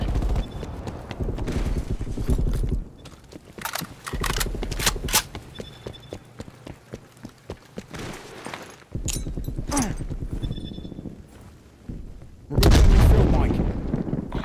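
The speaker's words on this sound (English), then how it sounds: "Hostile artillery targets. Artillery inbound." Artillery strikes and gunfire in the shooter game Call of Duty: Black Ops Cold War come in loud, sharp bursts and booming impacts, broken by short quiet gaps, with a heavy blast near the end.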